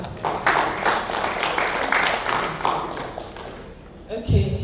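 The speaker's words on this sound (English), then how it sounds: "Round of applause for her." An audience at a conference event applauds, a dense patter of many hands clapping that holds steady for several seconds before fading, with a few louder thumps near the end.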